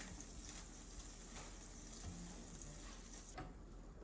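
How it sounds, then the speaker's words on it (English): Butter sizzles steadily in a frying pan before onions go in, a continuous close crackling hiss that fills the whole stretch without pause or speech. "I'm gonna take this butter and I'm gonna put it on the pan"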